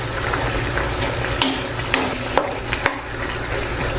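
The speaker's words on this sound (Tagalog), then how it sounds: "Haluin po." Pork binagoongan with shrimp paste and coconut milk cooks over medium heat in a pan, a steady sizzle broken by several sharp clacks of a spoon stirring against the pan.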